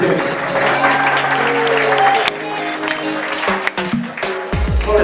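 Cruise ship audience clapping for Jake, the entertainment host, a sustained crowd applause over music, with voices and a few louder bumps near the end.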